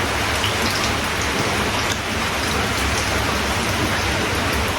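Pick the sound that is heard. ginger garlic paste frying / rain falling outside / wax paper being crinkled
rain falling outside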